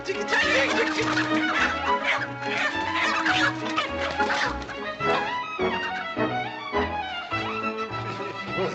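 Chickens cluck loudly and continuously in a farmyard during a frantic chase, mixed with busy commotion and some laugh-like sounds throughout.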